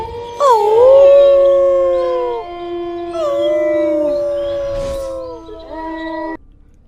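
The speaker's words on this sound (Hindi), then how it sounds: "कुत्ते और भेड़िए की आवाज आ रही थी" Dogs and wolves howl at night in two long, drawn-out, wavering cries, loud and close, each sliding in pitch before trailing off into silence.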